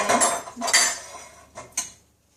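A spoon scoops into a baked apple and egg dish, giving a few close clinks and scrapes against the dish, then fading to quiet, with no voices.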